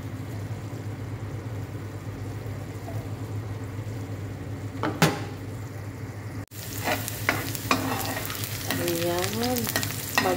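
Onions sauté in a pan for a home-cooked Filipino vegetable dish, giving a continuous close sizzle with occasional clinks and scrapes of stirring, growing brighter after a brief break.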